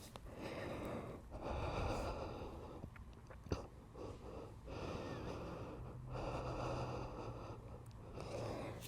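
Slow, steady breathing during a yoga stretch: long airy inhales and exhales come in broad waves with short pauses between them, close and fairly soft, with no talking.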